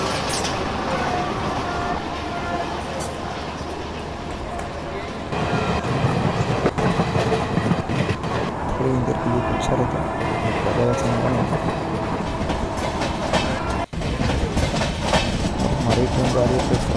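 Amravati AC Express train running in Trainz Simulator, with a steady rumbling roll and rhythmic wheel clatter throughout, growing louder and denser after a few seconds, with a brief dropout near the end.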